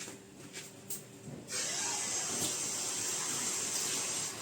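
Water poured from a tap into a bowl of batter for fried cauliflower in a home kitchen: a steady, hissing stream starts abruptly and flows continuously, close and fairly loud, after a few faint knocks.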